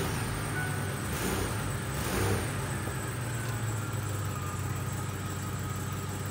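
A car with an automatic transmission fault that pulls forward in neutral runs after a restart, its engine holding a steady idle with a slight rise in revs midway, alone and close.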